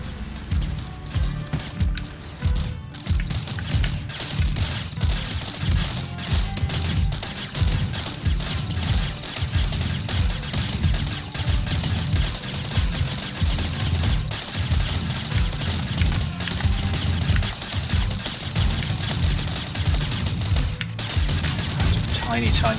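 Turret fire in the TerraTech video game: rapid repeated shots and clattering impacts keep up a steady fusillade for over twenty seconds, loud and continuous over a low mechanical rumble.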